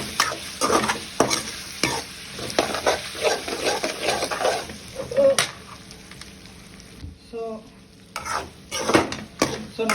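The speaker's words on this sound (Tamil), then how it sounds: "நல்லா மிக்ஸ் பண்ணி விட்டுருவோம்." Ginger garlic paste is stirred into chicken masala with potatoes frying in a pan, a spoon scraping and knocking in rapid rhythmic strokes over a steady sizzle, then easing to softer frying with occasional clinks.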